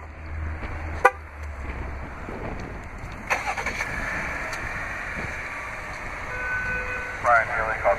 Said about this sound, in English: this vehicle is equipped with a remote start. To operate is easy, just double press the remote start button on the key fob.